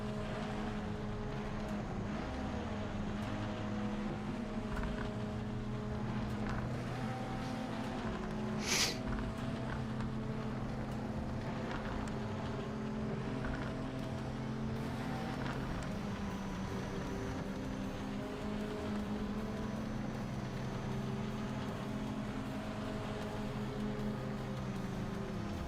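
A race car engine in Project Motor Racing revs steadily, droning at a constant pitch for a long stretch with a brief sharp burst partway through, as a glitch keeps it running while sitting still.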